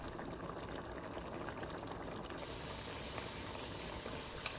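Mapo tofu with a cornstarch-thickened sauce simmers in a pan, giving a soft, steady bubbling and faint sizzle close by. A small click comes near the end.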